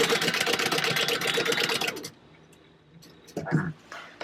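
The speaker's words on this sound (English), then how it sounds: "Then I'm going to go to the sewing machine, and we're going to sew at 1/4 inch to sew these two together." Sewing machine stitching fabric at a 1/4 inch seam with a 3 stitch length, a steady fast whir for about two seconds, then quiet and a short handling burst.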